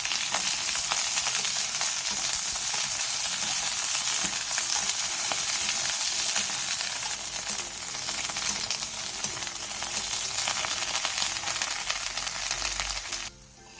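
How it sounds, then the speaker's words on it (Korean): Loud, continuous sizzling of garlic scapes and shishito peppers stir-frying in oil with salt in a pan over medium-low heat, a dense crackle lasting throughout before cutting off at the end, no speech. "팬에 기름을 두른 뒤 마늘종, 꽈리고추, 소금 2분의 1 티스푼을 넣고 중약불에서 약 2분에서 3분 정도 볶아내주세요"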